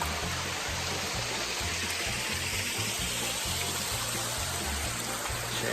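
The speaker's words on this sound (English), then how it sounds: "we're gonna walk on up and show you the little waterfall that's here." A small waterfall on the Lower Buffalo River splashes and rushes steadily, a broad continuous hiss of falling water heard close with no voices.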